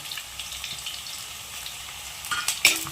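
Chopped ginger, about three tablespoons, sizzles steadily as it is stirred in a frying pan for a lemon pickle, with a few utensil scrapes and clinks near the end.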